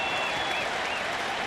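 A crowd of about 27,000 on its feet at a Cleveland Indians versus Cincinnati Reds baseball game, dense roaring applause and cheering washing over the stadium.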